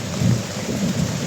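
Heavy tropical rain pours down with rumbling thunder, a dense steady roar of rainfall with low booming surges, loud and close, no voices.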